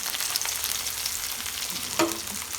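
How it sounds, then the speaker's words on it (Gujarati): Cumin seeds and a homemade paste drop into hot oil in a home kitchen, giving a soft, steady close sizzle with a sharper spitting burst as more goes in, then light stirring. "તેલ ગરમ થઈ ગયું છે તો આપણે એમાં થોડુંક જીરું નાખી દઈએ."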